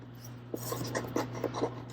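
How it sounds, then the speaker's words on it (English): An X-Acto knife trims planner paper with a few short, faint scratchy cuts close by over a steady low hum, no voices. "I think I'm going to take my X-Acto and trim"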